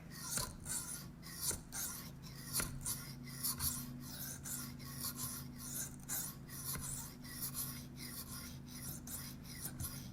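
Knife edge drawn by hand across a sharpening stone in repeated quick rasping strokes, about two per second, close and clear over a low steady hum, with no talking.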